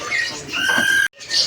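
Caged magpie robins at the Pramuka bird market give thin sustained whistles and chirps, close and fairly loud, with a brief gap before another short call.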